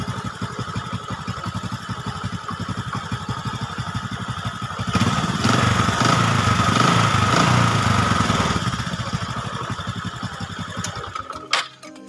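A Honda Supra 125 motorcycle engine idles and revs with a rough, rattly mechanical tone, the note swelling louder midway before easing back, close and continuous.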